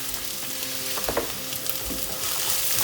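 The white parts of green onions fry in a pan for chicken lettuce wraps, a steady close sizzle with a few scraping stirs against the metal around the middle, continuous and even, no talk.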